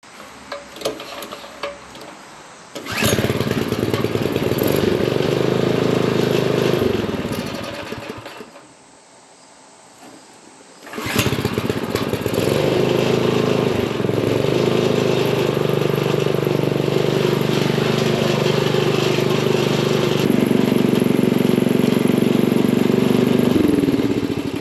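A Craftsman DT tiller's small engine, just repaired after mouse-chewed ignition wires, catches and runs with a loud, steady buzzing putter, briefly drops toward silence as it dies around the middle, then restarts and runs continuously again.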